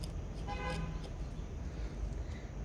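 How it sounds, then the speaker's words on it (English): Several car horns honk in short toots over a steady hum of traffic, fairly close by. "good old horns honking"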